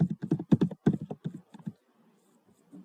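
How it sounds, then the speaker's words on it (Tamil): Computer keyboard typing while filling in a name on a university admission form: a quick run of fairly loud, irregular key taps that stops about halfway through, followed by faint stray clicks. "டைப் பண்ணணும்."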